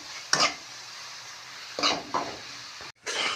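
Semolina halwa is stirred in a pan, with a few separate scraping strokes against the metal over a faint background hush, close and fairly quiet, and no speech.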